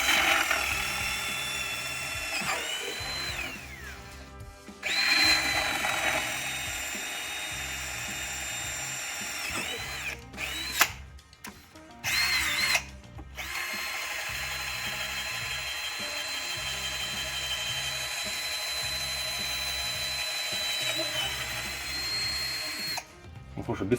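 A STURM CD3318LPT cordless drill runs in drilling mode with a steady high motor whine. It stops and restarts several times with short gaps and clicks in between, loud and close, then runs continuously for a long stretch.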